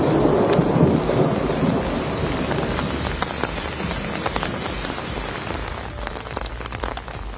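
Heavy rain pours steadily with strong wind and rumbling thunder, loud and continuous throughout with no voices.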